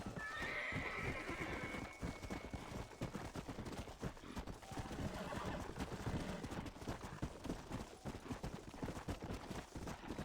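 Hooves pound in a fast, steady rhythm as a horse gallops along railroad tracks in Red Dead Redemption: Undead Nightmare, with a short whinny near the start and continuous rumbling game sound throughout.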